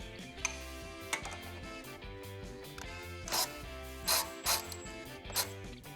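A ratchet spinning a new steering button part into place on a Mercedes B-Class W246, rapid fine clicking of the pawl running steadily under a dense, humming background.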